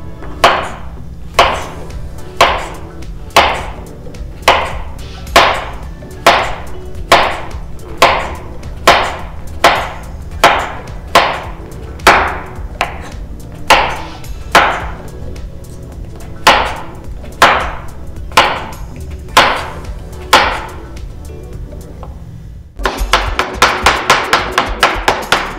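A knife slicing an English cucumber into half-inch slices on a cutting board, about two dozen evenly spaced crisp chops in a steady rhythm, close and loud, with a burst of faster rustling at the end.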